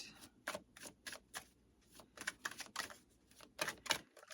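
Tarot cards shuffled by hand in quick riffling bursts, crisp and close, with brief pauses between flurries and no talking.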